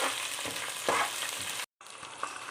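Green chili slices, curry leaves and dried red chilies frying in hot oil, a dense, continuous sizzle with soft stirring scrapes, cut short by a brief gap.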